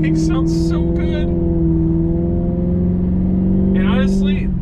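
Sports car engine in sport mode rumbles steadily and loudly for the whole stretch, a deep continuous drone with brief brighter bursts near the start and end, on a cold day; a person talks over it.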